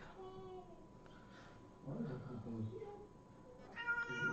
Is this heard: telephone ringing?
no